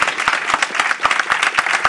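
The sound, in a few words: audience applause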